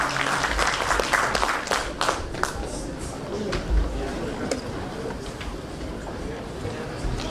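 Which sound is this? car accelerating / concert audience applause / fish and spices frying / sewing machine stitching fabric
concert audience applause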